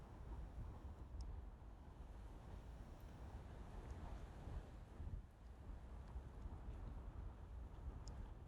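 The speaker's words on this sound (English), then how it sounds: "the winds are shaking the camera like crazy" Strong wind buffeting a camera microphone on the beach at Huntington Beach State Park, South Carolina: a continuous, low, rumbling roar with gusty surges fills the whole stretch, with surf faintly beneath it and no talking.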